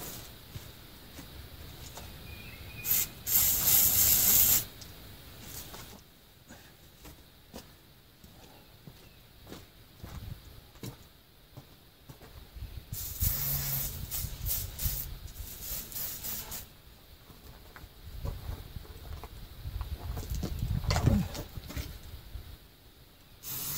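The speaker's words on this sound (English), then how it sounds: "I'm going for some hornet spray." Two bursts of sharp hornet spray aerosol hissing at wasps, a short one early and a longer one later, separated by quieter outdoor rustling.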